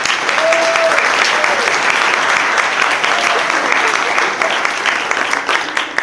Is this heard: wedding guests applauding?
yes